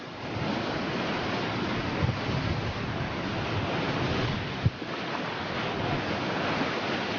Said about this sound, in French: Aujourd'hui, on a des conditions extrêmes, des vents entre 120 et 130 km/h.